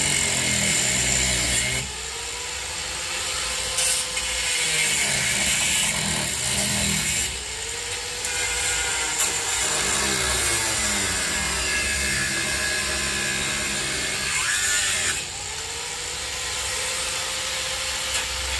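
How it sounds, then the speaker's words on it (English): A power tool cuts the screws off a horseshoe trivet, running as a loud, continuous mechanical whine for the whole stretch, with rising and falling pitch sweeps as the cut loads and eases. "This will cut the screws off like nothing."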